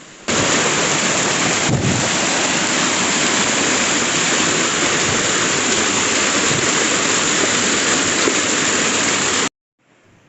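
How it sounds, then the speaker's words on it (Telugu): Heavy monsoon rain near Chitrakote Waterfall in India pours in a dense, steady roar that stays loud throughout, then cuts off abruptly near the end. "చాలా దారుణంగా కురుస్తున్నాయి ఇక్కడైతే వర్షాలు"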